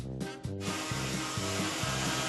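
A chainsaw cuts through a floor with a loud, continuous rasping roar and a regular pulsing rhythm, close up and with no voices.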